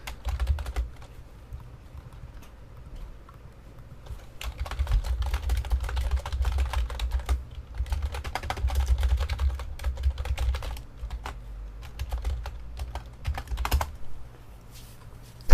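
Fingers type on a computer keyboard in irregular bursts of clicky keystrokes, quiet but close, with pauses between flurries and a faint low hum underneath.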